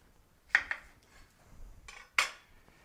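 A kitchen knife halves an onion on a cutting board, giving a few sharp, close knocks of the blade striking the board in two quick bursts, with no talking.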